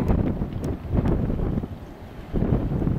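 Strong wind buffets the microphone near the 2009 Station Fire wildfire, a loud, rumbling, gusting roar that swells and dips in waves with no voices.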